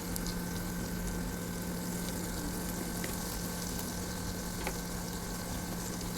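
Asafoetida fries in a pan with other ingredients, giving a steady, even sizzling hiss with a faint hum underneath, constant and close, with no voices.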